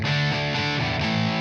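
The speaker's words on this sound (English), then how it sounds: "I've added a Boss BD2," Electric guitar played through a Boss BD-2 overdrive pedal into an amp on its clean channel gives a thick, steadily distorted chordal tone that rings continuously for the whole moment with no talking.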